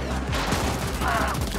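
Gunfire in a cyberpunk video game: a fast burst of shots fired close up, loud and dense, with game sound effects running underneath.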